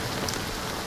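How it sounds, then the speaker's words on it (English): Steady rain falls in the game Honkai Star Rail, a soft, even patter of drops on surfaces, continuous and moderately quiet with no voices. "it's still raining"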